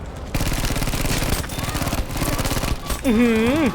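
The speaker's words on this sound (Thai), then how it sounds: "ยิงเพลินเกินห้ามใจสุดๆเลยครับ ถึงว่าเป็นปืนที่ถูกแบน" Rapid automatic gunfire from a banned gun in a video game rattles steadily for about three seconds, then stops as a voice with rising and falling pitch speaks over the game.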